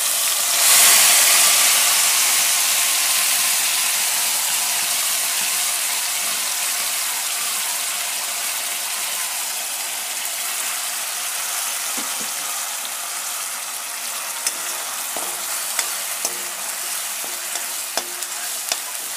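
Spice paste sizzles loudly in hot oil in a pan, a steady bright hiss that eases slightly over time, with scattered clicks and scrapes of stirring near the end and no voices.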